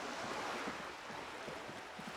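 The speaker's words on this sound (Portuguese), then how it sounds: "E o barulho de água meio bugado." Glitchy looping water ambience from the video game Disco Elysium, a steady wash like surf or rushing water with faint low thumps, continuous and moderately quiet with no talk.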